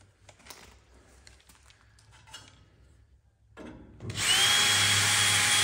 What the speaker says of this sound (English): You don't drill a pilot hole, that type of spot welder drill will crawl away from you.